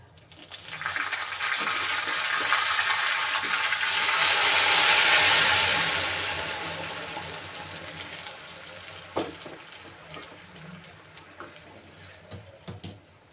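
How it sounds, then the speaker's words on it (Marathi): Cooked dal poured into a hot tempering, a broad hissing sizzle swelling to a peak and then easing into quieter bubbling, with a few sharp clinks near the end. "आता आपण याच्यामध्ये डाळ घालून घेऊया"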